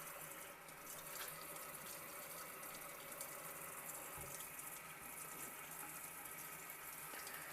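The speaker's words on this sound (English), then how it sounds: "I'm pretty much just letting water run over this." Tap water runs steadily over a Katadyn Hiker backpacking water filter in a sink, a faint, continuous hissing stream with small splashy fluctuations and no voices.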